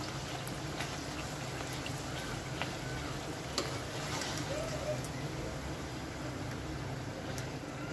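Puri sizzles steadily in hot oil while pressed down with a spoon, giving a faint, even frying hiss with small pops throughout.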